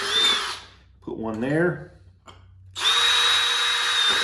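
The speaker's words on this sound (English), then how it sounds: "You can just drill them in between one of the rings on the bottom of that vegetable can." A power drill bores holes through the bottom of a metal vegetable can, with loud sustained whining bursts at the start and end and a short spoken remark in the quieter gap between them.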